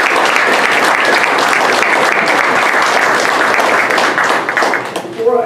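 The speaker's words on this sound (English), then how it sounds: "give him a big round of applause" Sustained audience applause at a wrestling team's winter banquet, a dense steady wash of clapping that fills the whole stretch and thins slightly near the end, with a few voices mixed into the crowd.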